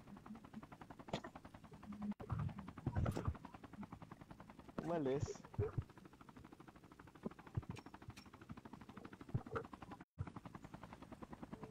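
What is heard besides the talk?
military helicopter in Call of Duty Mobile video game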